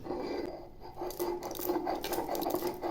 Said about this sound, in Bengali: এই সর্ষে আর পোস্তগুলো একদম মিহি করে বেটে নেব